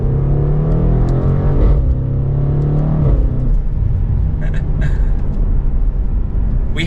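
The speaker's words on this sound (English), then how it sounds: "we had some of the pops in that exhaust." A 2023 BMW M850i xDrive coupe accelerates hard in sport mode, its engine note climbing loudly through a gear before easing off, followed by a few crisp exhaust pops and crackles.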